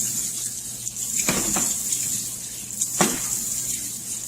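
Marrow stock bones rinsed under a running cold tap, a steady faint water hiss with a couple of brief louder splashes as the bones shift under the stream.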